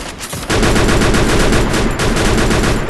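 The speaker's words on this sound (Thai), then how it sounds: "ยิงกันสนั่น" Gunfire in the video game Free Fire: a loud, rapid automatic burst kicks in after a brief lead-in and keeps hammering in a fast, steady rhythm to the end.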